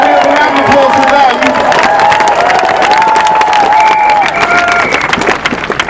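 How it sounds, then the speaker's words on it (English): A large outdoor crowd at a March for Europe rally claps and cheers loudly, with shouting and whistle-like tones rising over dense, continuous applause. "So can we have a round of applause for them?"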